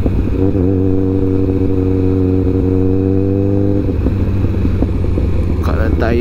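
A Kawasaki ZX14R motorcycle rides through light city traffic, its engine droning in a strong steady low hum that shifts pitch partway through, with road clatter mixed in close and loud.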